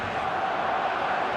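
Stadium crowd noise from the eFootball video game during an FC Barcelona match, a steady dense roar of massed voices, loud and continuous throughout with no distinct breaks.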